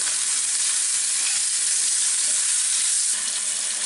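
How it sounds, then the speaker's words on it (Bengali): A piece of potato frying in hot oil for a koi fish curry with tomato, giving a loud, dense, continuous sizzle that stays even and close throughout. "আলুটাকে একটু ভেজে নিই"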